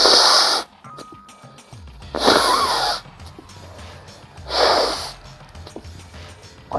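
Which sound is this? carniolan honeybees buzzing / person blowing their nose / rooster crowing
person blowing their nose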